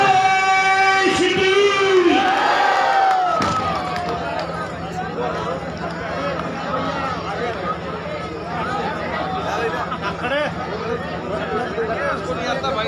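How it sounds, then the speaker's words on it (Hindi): Audience applause at a staged Krishna Lila performance in Loharu, on its seventh day: a few sustained tones, then a dense, steady wash of clapping mixed with crowd noise that carries on evenly for about ten seconds. "इसी नाम पे जोरदार ताली।"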